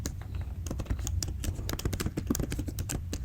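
Rapid typing on a computer keyboard while entering a chart axis title, a close, dense run of light key clicks with no talk.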